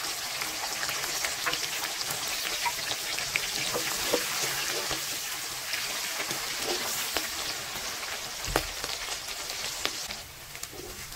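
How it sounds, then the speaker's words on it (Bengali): Green chili slices fry in oil in a wok after a black cumin tempering, giving a steady, dense sizzle and crackle throughout with scattered sharper pops and no talking. "মরিচগুলো একটু ভেজে নিয়ে দিয়ে দিব পেঁয়াজ কুচি"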